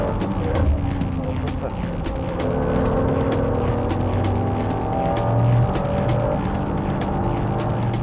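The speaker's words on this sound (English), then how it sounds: "The NSXR passes the 330 horsepower European spec Supra at the first" A Honda NSX-R and a 330 horsepower European-spec Toyota Supra race through corners, producing a loud, sustained engine drone with shifting tones as the cars pass.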